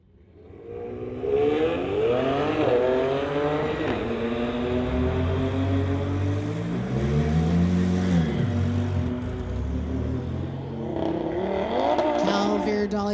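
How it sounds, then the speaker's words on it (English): A Kia Stinger and a 2017 Infiniti in a street-legal drag race, engines revving hard through rising gear-shift sweeps, loud and close, with a second run of acceleration building toward the end. "Got a Kia Stinger in the Lordco lane going against the 2017 Infiniti driven by Calvier Dollywall."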